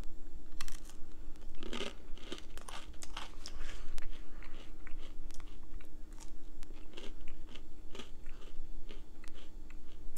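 Spoonfuls of Ben & Jerry's cookie dough ice cream are eaten close to the mic, with soft crunching bites and wet chewing repeating irregularly over a steady low background hum.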